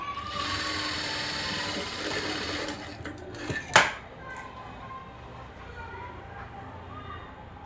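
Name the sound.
sewing machine stitching a blouse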